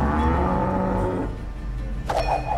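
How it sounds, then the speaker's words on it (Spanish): The cow card in the Gwent card game gives a loud, low, drawn-out moo lasting over a second, followed by quieter game tones and a brief chiming effect. "Vamos a meterle ya a la vaca."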